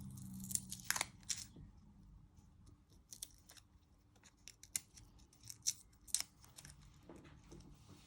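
A kitchen knife cuts the ends off garlic cloves on a board, giving a scattered series of close, crisp snicks and crunchy taps with quiet pauses between them.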